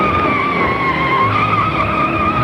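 Cartoon-style skid of Formula 1 race cars, a sustained high tire squeal with a steady engine roar underneath, loud and close, lasting the whole moment without pause.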